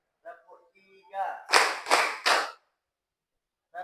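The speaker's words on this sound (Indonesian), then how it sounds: "Tepuk 1, tepuk 2, tepuk 3," A group in a classroom claps in unison on count, three sharp, loud collective claps in quick succession, preceded by a brief spoken count and followed by silence.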